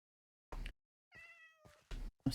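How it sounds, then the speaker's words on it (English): A Minecraft cat meows several times, short close calls with one longer drawn-out, tonal mew in the middle, separated by brief silences and with no talking. "There's a cat meowing."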